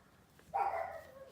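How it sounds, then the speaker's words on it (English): One dog gives a single short, sharp bark from somewhere in a quiet bedroom, faint and slightly distant, with no other sounds around it. "Sorry if you guys can hear my dog barking."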